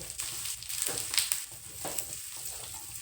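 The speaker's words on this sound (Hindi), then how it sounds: "तेल तो गर्म हो गया जम के, और हम ये मसाले, सारे के सारे मसाले इसी तेल में डाल देंगे" Spices, starting with asafoetida, hit hot oil in a pan for homemade red chilli pickle, giving a close, steady crackling sizzle with a few brief louder bursts and no talk.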